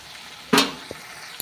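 Ground cumin, turmeric and salt hitting hot oil for a rohu fish curry, a single loud sizzling burst that fades, followed by a couple of brief utensil taps against the pan.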